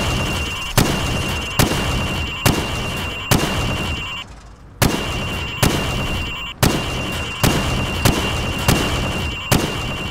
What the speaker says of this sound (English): I want you to shoot the targets through the wood.